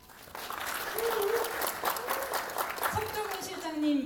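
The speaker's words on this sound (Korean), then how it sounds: "여러분들 큰 박수로 김수인 의원님을 맞이해 주시기 바랍니다" Audience applause welcoming a lawmaker to the stage at a Korean presentation event, clapping rising after a quiet start and running steadily, with faint voices and a tonal sound over it.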